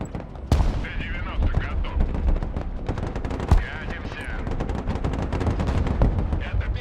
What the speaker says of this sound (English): Something is shooting my guards quite a lot.